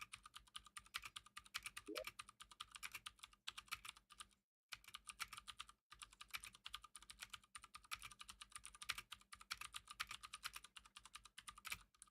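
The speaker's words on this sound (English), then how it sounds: "I have the world's loudest keyboard" Rapid clacking from a very loud computer keyboard, heard up close. Dense typing continues for several seconds, broken only by two brief pauses, with no talking.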